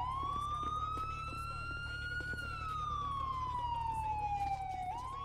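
A police siren wails steadily, rising and falling in a long sweeping tone over a low constant engine hum, moderately distant.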